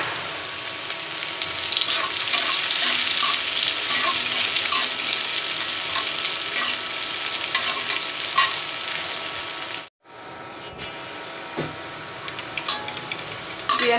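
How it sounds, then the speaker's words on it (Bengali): Onions sizzling in hot oil in a pan while cooking a fish curry, a steady loud crackling fry, briefly cut off by a silent gap before resuming more quietly with occasional clatter. "পেঁয়াজটা ভাজা হয়ে গিয়েছে"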